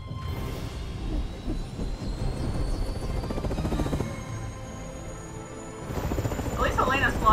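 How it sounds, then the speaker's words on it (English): A helicopter flies in the video game Resident Evil 6, its steady rotor and engine rumble droning continuously beneath game music and effects, swelling slightly toward the end. "I'm flying the helicopter."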